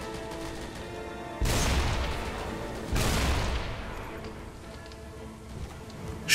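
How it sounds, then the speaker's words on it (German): Gunfire in the shooter game Deadfall Adventures: two loud, booming shots about a second and a half apart, each leaving a long decaying tail, over a quiet background with a faint thump at the end. "da hinten ballert einer"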